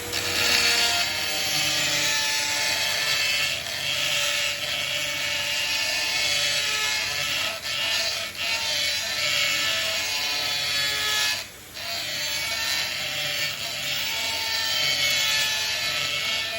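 A rotary oval carbide burr grinds inside a shofar horn, enlarging it with a loud, continuous high-pitched whine and rasping buzz that holds steady and dips briefly only once.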